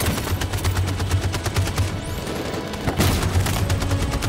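Sustained gunfire rattles through a battle in Detroit: Become Human, dense repeated shots with a machine-gun rhythm, loud and close, pausing briefly around the middle before resuming with the same intensity.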